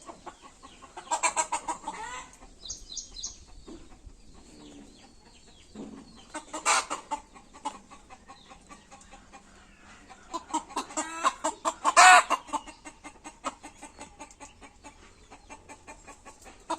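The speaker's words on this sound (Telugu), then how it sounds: "ఇది మాదేనండి పుంజు. వాటికి ఏం కనిపించాయో మరి అరుస్తున్నాయి." A rooster and hens in a village on a summer afternoon let out bursts of clucking and sharp calls, loud and close, with a louder outburst near the end and quiet gaps between.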